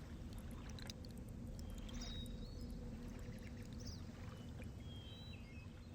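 Water pouring into a pool in the video game Riven, a faint, steady rushing flow with a few soft chirps and trickles over it, distant and quiet.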